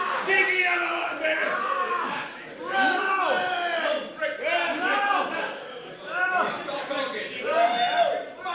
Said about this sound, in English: that crowd is still giving Doc some love